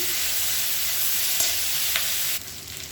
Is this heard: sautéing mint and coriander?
yes